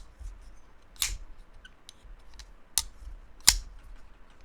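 A Kizer Momo folding knife snaps open and shut with a few sharp, tinny metallic clicks spaced irregularly over a few seconds, close and fairly quiet against a hushed background.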